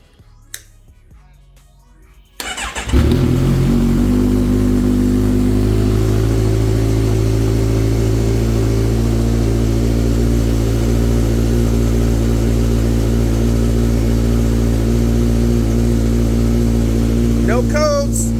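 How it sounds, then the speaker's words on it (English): A motorcycle fitted with a newly installed booster plug cranks after a quiet pause, catches and settles into a loud, steady idle that runs close and continuous to the end. "I just want to start her up, get the initial start after the install of the booster plug"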